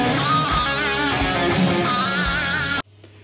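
Electric guitar playing the opening phrase of a guitar solo, a dense, sustained run of notes played loud and continuous, stopping abruptly near the end with only a faint low hum left.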